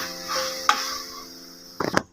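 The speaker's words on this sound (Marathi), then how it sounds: "गूळ मस्त चांगला हलवून घ्यायचा, एक पण असं खडा वगैरे गुळाचा राहिला नाही पाहिजे।" Jaggery filling for modak stirred in a pan, a soft scraping and sizzling followed by a couple of sharp spoon taps against the metal rim, close by and without talk.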